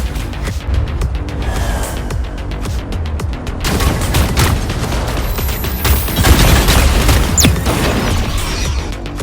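A mech being destroyed in the Super Mechs Champions video game: sustained heavy gunfire with crashes and booms building up into a loud, chaotic barrage that lasts several seconds.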